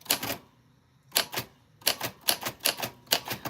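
Keys of a vintage typewriter clatter in quick bursts of strikes, a short flurry, a pause, then several rapid clusters of sharp mechanical clacks close up with no voices.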